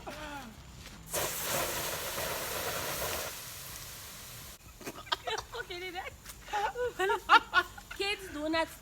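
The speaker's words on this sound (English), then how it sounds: "That was more like steam" Steam hisses from a cooking pot over an outdoor fire at midnight, a steady broad hiss lasting about two seconds before fading, after which people talk and laugh nearby.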